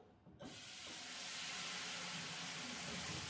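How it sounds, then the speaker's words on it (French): Water poured into a hot oven tray to make steam for baking bread bursts into a loud, steady hiss and sizzle after a brief quiet start, sustained at close range with no talking. "je vais mettre de l'eau dans ma tartière afin de faire de la vapeur dans mon four"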